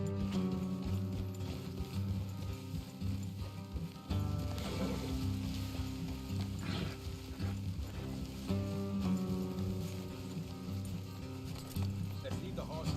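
Horse hooves clip-clop in Red Dead Redemption 2, a steady trotting rhythm under game music and ambient sound.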